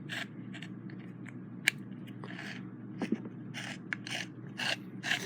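Small metal parts being turned as the bezel of a Columbia Grafonola No. 6 phonograph reproducer is unscrewed: faint scraping, light clicks and brief squeaks of threads, close by and intermittent.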